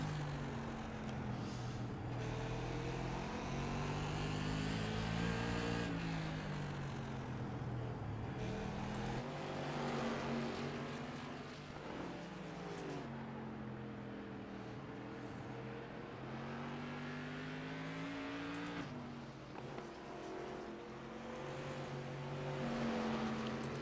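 Modified race cars roar around a short oval track, engines rising and falling in pitch as the pack laps and passes, loud and continuous with no break.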